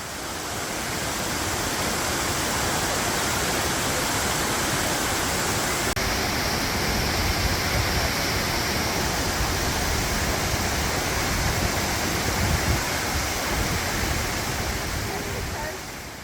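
A waterfall at Plitvice Lakes National Park in Croatia gives a steady, close, loud rushing roar of falling water that fills the whole stretch without a break.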